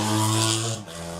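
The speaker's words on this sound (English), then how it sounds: "Lovely machine there, RJ's riding" A racing motorcycle at the Tandragee 100 road race, ridden by RJ Woolsey, roars loudly and steadily with a sustained engine tone that drops in pitch as it passes close by.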